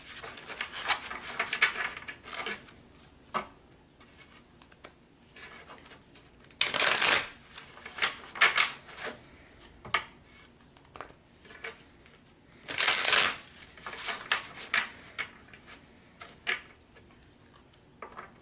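Oracle cards are shuffled by hand in soft, papery riffles, with two louder, sharper bursts of shuffling standing out against quieter handling.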